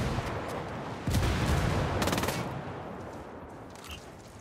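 Gunfire in Ghost Recon Wildlands, a few loud bursts of automatic shots around the middle over a steady noisy battle background, with no talk.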